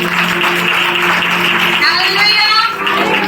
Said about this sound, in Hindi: ताली बजाकर प्रभु का धन्यवाद करें सभी कोई।